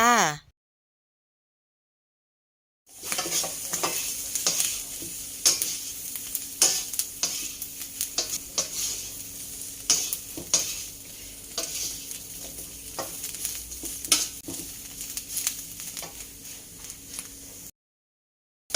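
Garlic and fresh chillies dry-roasting in a pan for a fermented fish chilli dip, stirred continuously: steady crackling sizzle with frequent scraping and tapping strokes for about fifteen seconds, framed by brief silences at the start and end.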